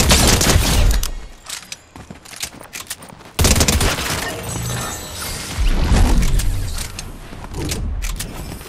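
Fortnite gunfire crackles in repeated bursts of rapid shots, loud and close, with short pauses between volleys over a busy game soundscape.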